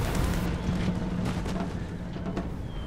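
Artillery fire in the Empire Total War video game, a dense rumbling barrage of cannon booms layered over continuous battle noise, steady and loud throughout without clear gaps.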